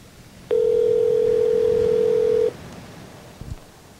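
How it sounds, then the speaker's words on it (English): Telephone dial tone heard while placing a call, a single steady hum lasting about two seconds alone against faint background noise, then a brief click. "let's call Desmond"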